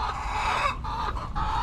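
Chickens cluck in a coop under repair, several birds close by in a short, busy stretch of overlapping calls.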